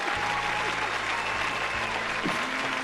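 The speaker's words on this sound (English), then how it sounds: "Let's hold up the sign for the audience to applaud." A studio audience applauds, a dense, continuous wash of clapping at even loudness with faint voices beneath.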